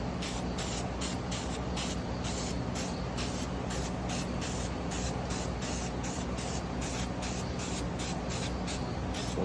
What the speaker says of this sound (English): so I always want to spray with copper coating